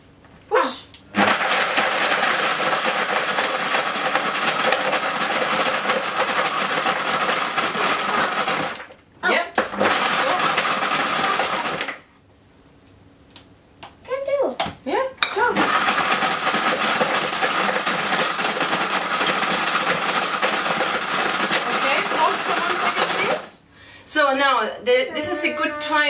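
A Vitamix blender roars loudly while blending raw vegan charcoal yogurt in a small portion, running in long bursts with brief pauses and stops between them, and a person speaks during the quiet gaps.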